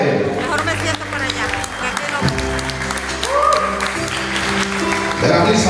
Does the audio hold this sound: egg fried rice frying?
no